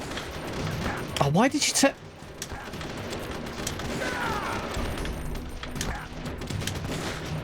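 Pistol gunfire from a SOCOM handgun in the video game Metal Gear Solid: The Twin Snakes, a quick cluster of sharp shots over game sounds, with a voice talking over the action.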